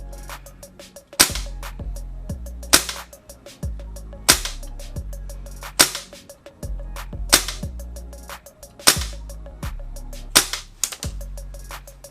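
Shots from a PP-2000 gas airsoft gun ring out in loud sharp cracks, arriving in a steady series of bursts and single pops with short pauses between them, with no talking.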